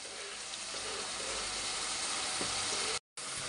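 Ginger garlic paste frying in a hot pan with spice powder, a steady loud sizzle throughout, briefly cut out near the end.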